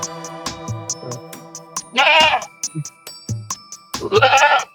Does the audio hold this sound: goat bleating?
yes